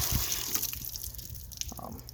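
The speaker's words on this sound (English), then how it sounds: "Once the water stops sputtering out," Water sputters and drips from a cracked-open drain valve on a Heartland Pioneer BH250 travel trailer as pressure is relieved, an irregular splashing trickle with small bursts, fairly faint and close, with no talking.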